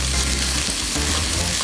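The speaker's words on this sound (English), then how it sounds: "now we can mix in the sauce ingredients together" Peanut satay sauce ingredients are stirred together in a hot pan, giving a steady, close sizzle with a scraping, churning texture and no talk over it.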